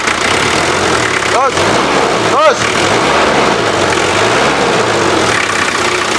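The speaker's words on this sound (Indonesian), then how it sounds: "kita nyalakan mesinnya, kita dengerin suaranya. Coba digas." A 1992 Daihatsu Taft GT 4x4 with a 2800 cc indirect-injection diesel runs with a loud, steady, rough drone throughout, briefly overlaid by a man's short spoken word.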